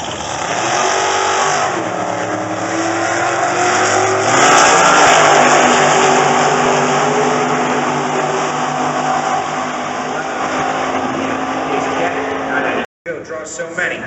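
A 2003 Chevrolet Corvette drag racing engine roars and surges loudly during sportsman qualifying, then holds a sustained rumbling drone, with a brief abrupt cutout near the end.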